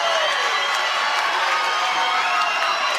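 A loud, continuous roar of crowd cheering and shouting at a Muay Thai fight, a dense wall of voices holding steady from start to finish with no pauses.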